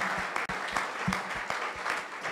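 A church congregation at an evangelistic gathering applauds steadily, a dense wash of many hands clapping with a few sharper individual claps, continuous and fairly close, with no talk over it.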